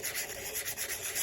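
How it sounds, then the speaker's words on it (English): Coarse 80-grit sandpaper rubs steadily across a ceramic surface in quick, even back-and-forth strokes, close and alone. "You guys have been listening to a lot of sanding lately."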